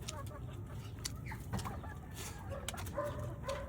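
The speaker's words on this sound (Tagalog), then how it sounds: "Ito yung maalaga kong manok." A pet chicken clucks in a few short calls amid a busy outdoor backdrop, with scattered clatter and noise around it at moderate distance.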